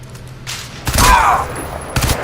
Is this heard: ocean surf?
no